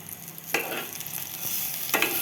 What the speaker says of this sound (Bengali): নিম বেগুন ভাজা করব।